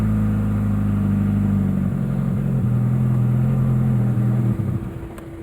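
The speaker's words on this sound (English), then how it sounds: "Yeah, it's idling now." A Ford Escort Si mk6 engine idles steadily up close, a low droning hum with a slight wavering, which fades somewhat toward the end.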